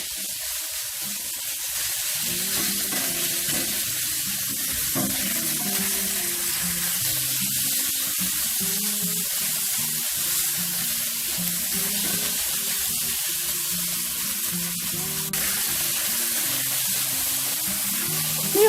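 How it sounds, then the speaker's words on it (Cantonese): Shredded pork stir-fried in a wok with ginger and garlic, a loud continuous hiss and sizzle lasting throughout, with background music playing underneath. "就俾呢個我哋嘅肉絲落去爆下佢"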